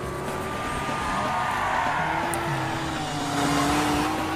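A motor vehicle engine, stated to be a motorcycle ridden recklessly on a street while police give chase, revs steadily and loudly throughout, with a sustained droning pitch that rises and falls like a nearby accelerating pass and no voices.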